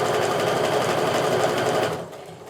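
A sewing machine stitches strip-pieced quilting fabric with a loud, steady, close mechanical whir that winds down and stops near the end.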